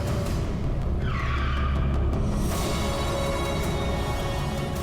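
A car skids hard to a stop on a road, tires squealing loudly up close for a couple of seconds over engine noise, then the sound fades into a low rumble.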